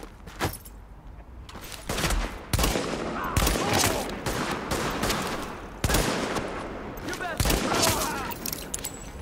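Repeated gunshots and bursts of gunfire from The Division, played in the Xbox One beta, crack sharply and close, with some spaced single shots and some rapid strings over steady in-game background noise.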